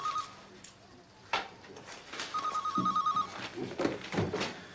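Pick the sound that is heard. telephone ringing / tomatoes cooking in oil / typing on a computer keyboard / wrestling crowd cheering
telephone ringing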